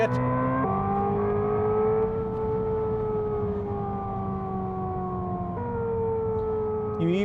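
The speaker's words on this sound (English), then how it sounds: "I think this one is more like a traditional gas car sound." A simulated gas engine tone from an electric car hums loudly with rising and falling pitch, like shifting through simulated gears, the artificial whine cutting off and restarting near the end.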